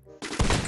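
A single loud SKS rifle shot in the mobile shooter Free Fire, a sharp blast rising abruptly from a quiet moment and ringing on briefly.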